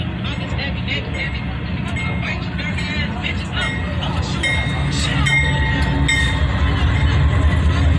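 Union Pacific intermodal freight train with SD70M locomotives rolling slowly past at Elmhurst, Illinois, a steady close rumble with metallic clinks and wheel squeals, while people talk over it throughout.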